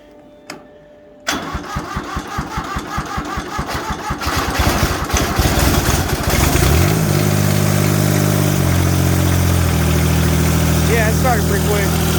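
A diesel garden tractor fitted with a turbo cranks in a rapid chugging rhythm for several seconds after a faint click, then fires and settles into a loud, steady idle.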